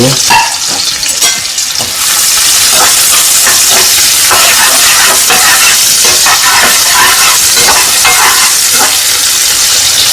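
Finely chopped onions and green chillies fry loudly in oil in a pan, a dense, continuous sizzle and hiss that swells after a brief settling at the start, with no voices.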